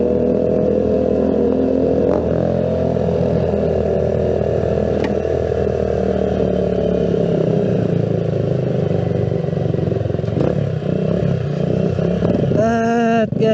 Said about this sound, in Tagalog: maingay ang mga tambucho